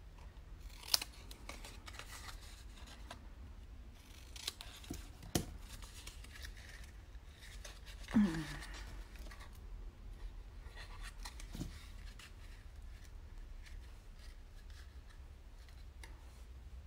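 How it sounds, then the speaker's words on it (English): Scissors snip off the edge of paper or cardstock during a Valentine papercraft box project, giving a few sharp, quiet cuts spaced several seconds apart over a faint room hush. "Again, I'm going to snip off an edge."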